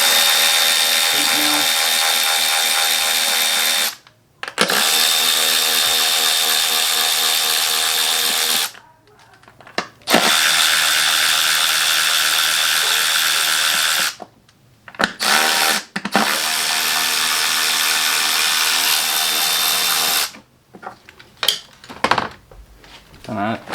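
A power socket tool loosens E10 bolts on an M276 engine during a camshaft replacement, whirring loudly in several sustained bursts of a few seconds each, separated by short pauses and a closing flurry of brief spins.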